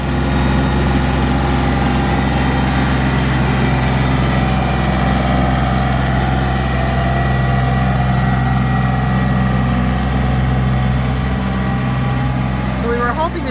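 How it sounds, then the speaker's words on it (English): A tractor engine runs steadily with a low, continuous drone while climbing a steep incline during fall yard cleanup, heard fairly close throughout. "The tractor was going to be able to make it up this incline."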